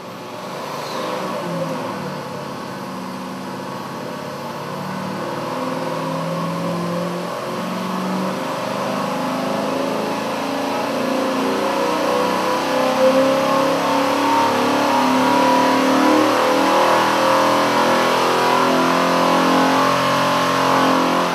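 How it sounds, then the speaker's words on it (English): A car engine with Holley EFI self-tuning revs on a dynamometer during a pull. It is a loud, sustained roar that climbs steadily in pitch and intensity for about twenty seconds, close up, with no talking. "We'll now make another dyno pull so that the system can do all the learning it needs."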